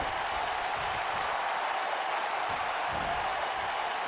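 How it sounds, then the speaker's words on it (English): Arena crowd in an AEW wrestling video game roars and applauds in a dense, steady wash of cheering noise, loud and unbroken throughout. "Crowd is going absolutely crazy right now."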